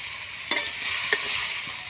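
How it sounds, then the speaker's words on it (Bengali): Spice paste with fish and vegetables fries in hot oil, giving a steady close sizzle broken by two short scraping stirs. "এবার যতক্ষণ তেল না ছাড়বে ততক্ষণ কষে"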